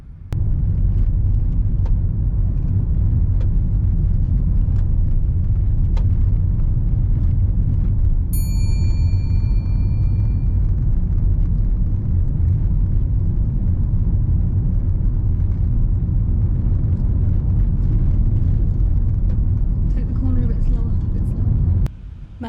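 Car driving along narrow country lanes with overgrown hedges and sharp bends, a steady loud engine and road rumble throughout, with a brief high electronic chime partway through and a voice talking over it.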